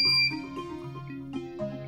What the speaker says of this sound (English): if you stuck this to the side of your door and you had a wire going across and it gets pulled out, your alarm goes off